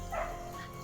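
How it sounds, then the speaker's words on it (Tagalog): A faint, brief dog bark or yelp rises once over a steady low background hum, somewhat distant, in the mountains. "May mga aso."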